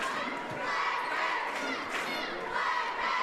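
Prestonsburg Lady Black Cat cheerleaders at a girls' basketball game against Lawrence County, a gym crowd with shouted chants and cheers rising and falling, ball bounces and thuds faintly underneath.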